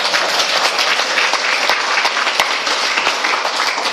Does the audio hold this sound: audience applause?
yes